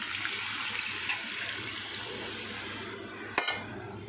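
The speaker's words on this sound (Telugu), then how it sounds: "ఇలా ముక్కలు పట్టిన తర్వాత కొద్దిగా వాటర్ పోస్తున్నానండి" Water pours steadily into a pan of fish pieces for fish curry with a soft, even splashing hiss, and a single small clink of metal comes near the end.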